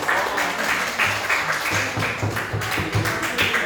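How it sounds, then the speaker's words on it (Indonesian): Group of people clapping in rhythm during a martial arts training session, a steady brisk patter of claps filling the whole stretch without any talk. "Ya, tepuk tangan."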